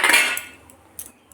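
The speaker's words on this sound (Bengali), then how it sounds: "এটা এখন এর মধ্যে মিশিয়ে দেবো মাংসের মধ্যে।" Chilli-cumin paste being mixed into marinated chicken in a bowl, with several sharp utensil clinks and scrapes, one louder burst at the start followed by fainter taps, close by and without talk.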